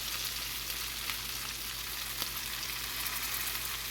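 Pieces of fish fry in a pan with a continuous, crackling sizzle that is quiet but steady, with scattered small pops and a low hum underneath.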